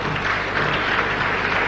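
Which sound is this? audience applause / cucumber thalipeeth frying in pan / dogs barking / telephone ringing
audience applause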